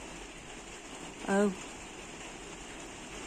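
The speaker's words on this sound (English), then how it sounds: "It's really raining now." Heavy rain pours down outdoors as a steady, even hiss of falling water throughout. A voice gives one brief exclamation partway through.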